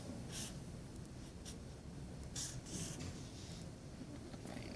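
A pen or pencil scratching on paper while a geometry figure is drawn by hand, several short bursts of strokes at an irregular pace, close and quiet over a faint background hiss.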